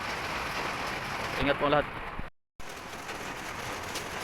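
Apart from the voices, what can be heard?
rain during typhoon in Pasig City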